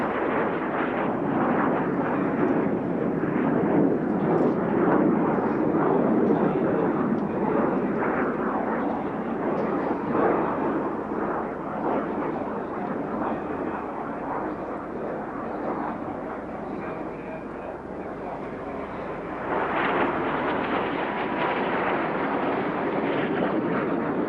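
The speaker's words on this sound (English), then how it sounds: "The Mackie is powered by the Rolls-Royce Viper" Macchi MB-326 jet trainer with a Rolls-Royce Viper engine passing at an airshow, a broad roaring rumble that swells and eases over many seconds and carries from a distance, with no talk.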